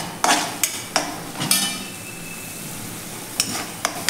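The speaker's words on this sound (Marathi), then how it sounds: "आता हे मीठ देखील आपण यामध्ये व्यवस्थित मिक्स करून घेऊया" A utensil stirs salt into matar bhaji, a green pea curry, in a pan, making irregular clinks and scrapes over a soft background sizzle, with no talking.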